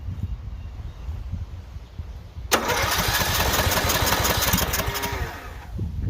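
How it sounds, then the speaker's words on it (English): After a moment of low rumbling, an auction tractor engine on choke suddenly fires and roars at a loud, rough, steady pace for about three seconds before fading back down. "we'll give it some choke. We'll see if we can get it to run on its own gas tank."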